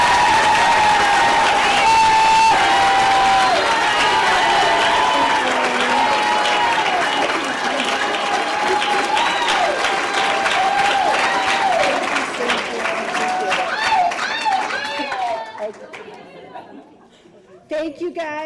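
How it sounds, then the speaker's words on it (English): A large audience gives a final round of applause at an awards-style ceremony, with loud, sustained clapping, scattered cheers and background chatter, then thinning out near the end. "let's give them one last round of applause"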